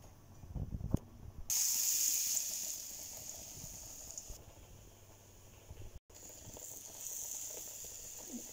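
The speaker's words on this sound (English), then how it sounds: "Now we are frying them all, like deep frying them." Steady hissing sizzle of potato fritters deep frying in hot oil, loud and continuous, with a brief clatter near the start and a short break midway.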